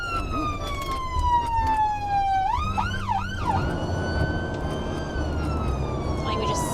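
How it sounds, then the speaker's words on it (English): Ambulance siren sweeping down in a long wail, then switching to a quick yelp before settling into a steady tone, loud against road noise as the vehicle passes. "Ambulance blasting through."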